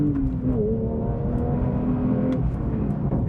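A Porsche GT3 Touring engine revs hard up toward its 9,000 RPM redline, a loud rising whine with steady high-pitched harmonics, close and continuous with no talking.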